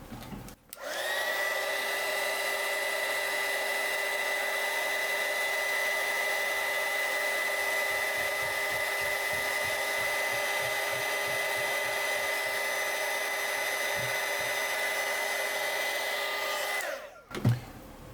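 A heat gun shrinks heat shrink tubing on antenna wire, switching on with a click into a steady whirring blower hum that runs evenly for about sixteen seconds before cutting off with a clunk.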